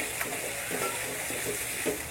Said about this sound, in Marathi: याला देखील आपल्याला 1 मिनिट फ्राय करून घ्यायचं आहे